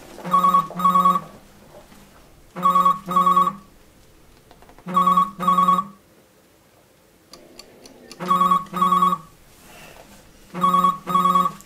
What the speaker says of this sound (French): Écoutez bien la sonnerie de votre téléphone.